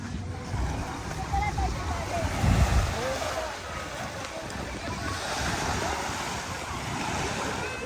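Ocean waves wash onto the beach at Canyon Cove in Nasugbu, Batangas, a steady roar of surf with wind buffeting the microphone and a louder swell of water near the middle.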